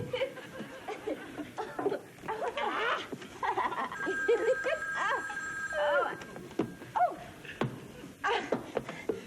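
An old-style telephone bell rings in bursts amid bustling movement, with people talking and laughing over it.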